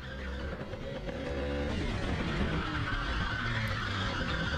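A shifter kart at a racing track, its engine droning steadily loud throughout with broadband rumble and a hint of tire scrub during a half spin, no talk.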